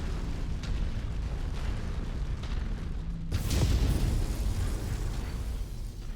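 A missile explosion in MechWarrior 5 with an Annihilator ANH-1E mech, heard as a sudden loud boom that cuts through a steady rumble of battle noise and leaves a rolling, noisy decay.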